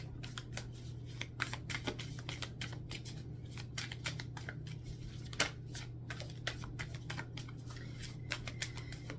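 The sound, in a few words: shuffling and drawing tarot cards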